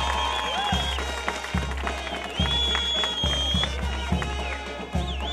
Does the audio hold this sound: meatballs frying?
no